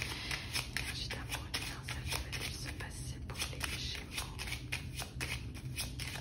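A 32-card deck is shuffled for a card reading, giving a steady, quiet riffling and patting of cards that continues throughout at close range.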